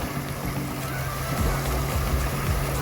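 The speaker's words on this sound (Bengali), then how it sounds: "বাপরে, সমুদ্রের মতন ঢেউ মারছে।" Waves churn and break on a very large lake, a close, steady wash with low rumbling surges, as people bathe in the water.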